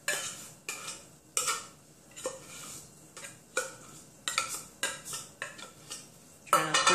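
A metal spoon scoops tuna into a casserole dish for a microwave tuna casserole, giving a run of close, irregular clinks and scrapes against the dish with short pauses between strokes.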